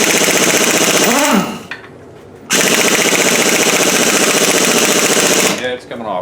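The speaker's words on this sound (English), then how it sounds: "I got the impact set at its lowest setting, so I'm not abusing it" A pneumatic impact wrench set to its lowest setting loosens a bolt on a 2007 GMC Yukon's 5.3 engine, loud and close in two long rattling bursts separated by a short pause.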